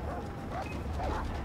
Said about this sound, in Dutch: er zitten honden achter me